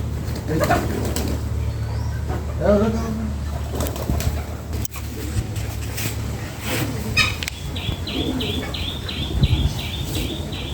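Pigeons coo among people talking nearby, with a quick run of high, repeated chirps near the end.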